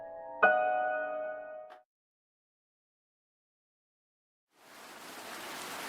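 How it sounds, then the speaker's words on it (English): Rain pouring in a visual novel game, a steady hiss fading in after a tonal chime and a stretch of silence. "The rain never seems to cease at this time of year. It pours from the sky"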